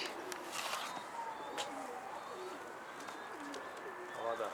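Pigeons coo softly and birds chirp in open air, with a few wing flutters and some faint distant voices.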